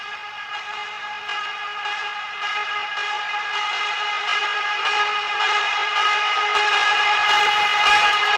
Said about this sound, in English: I just took a single note of Mitchel's and kind of just repeated it and swelled it up